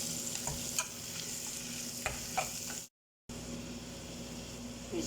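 Chicken with onion and black pepper being stirred in a hot pan, a steady sizzle with scattered scrapes and taps of the utensil, cut off briefly by a short gap of silence before the frying resumes.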